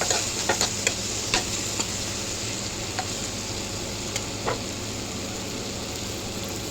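Tomato and green chilli pieces frying in a pan: a steady hiss of oil with a few crisp spatula taps and scrapes clustered early on, close and fairly soft, no voices.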